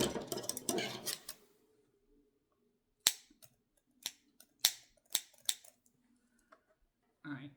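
Scissors snipping through material while making a foam board treat card, a series of sharp separate clicks and snips at close range, following a brief stretch of talk.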